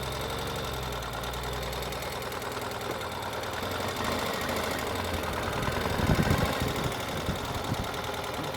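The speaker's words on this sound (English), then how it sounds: "So I'll take it just around the parking lot so you can see the bike in motion from outside." A Ural sidecar motorcycle rides around a parking lot, its engine running steadily with a low throbbing idle-like chug that swells slightly midway, heard from outside at moderate distance with no talk.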